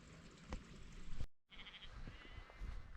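Sheep bleat on a wild Scottish hillside glen, several quavering calls from a flock at moderate distance, under steady outdoor wind noise and broken by a brief dropout.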